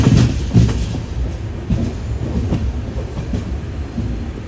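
The Ernakulam–Mumbai LTT Duronto Express sleeper coach rolls along the rails out of Karmali, a steady low rumble with rhythmic clickety-clack wheel beats, heard from inside the carriage with no voices.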